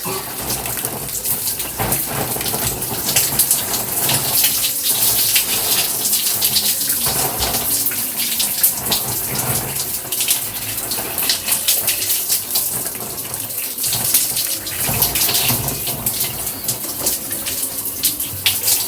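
Water runs continuously while waist-length hair is rinsed, a loud, steady rushing splash with no voices.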